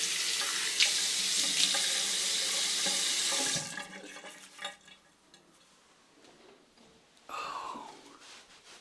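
Tap water runs loudly into a bathroom sink for a rinse after a wet shave, then cuts off abruptly, leaving scattered drips, splashes and handling sounds before a brief burst of water returns.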